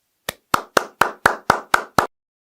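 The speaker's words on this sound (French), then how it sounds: "Nous allons l'accueillir avec un tonnerre d'applaudissements." Eight slow, evenly spaced hand claps ring out close and crisp in a quiet room, a welcome for the instructor of an online lesson, with no voices.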